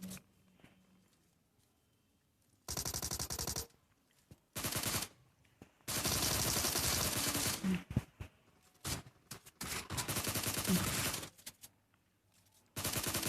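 Bursts of automatic gunfire from a battle royale video game, several loud sustained volleys separated by short quiet gaps, with a final burst at the end.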